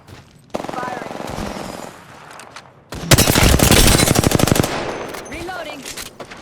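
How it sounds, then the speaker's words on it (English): Apex Legends automatic weapon fire in two loud, rapid bursts, the second longer and harsher, separated by a short pause, with brief voice chatter and game sounds between them. "Firing."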